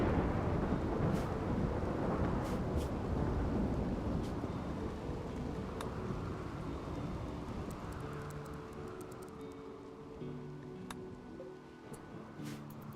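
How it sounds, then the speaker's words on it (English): Thunder in the video game RimWorld: a loud, sustained rolling rumble that fills the whole stretch and slowly fades, with a few sharp crackles scattered through it and no voices. "thunder is so loud"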